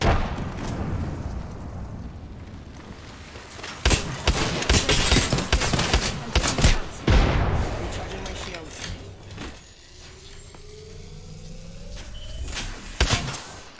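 A grenade blast inside a video game lands among other loud, booming in-game combat noises, with gunfire and explosions scattered through the scene and a quieter stretch near the end.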